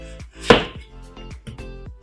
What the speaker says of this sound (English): once you start your chopping, you will not get any complication